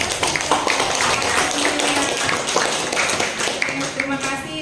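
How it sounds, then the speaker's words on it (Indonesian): An audience at a teachers' session applauds the two speakers, a thick, sustained wash of clapping with voices mixed in underneath. "tepuk tangan untuk Bu Wajah dan Bu Nur Fitri sekali lagi"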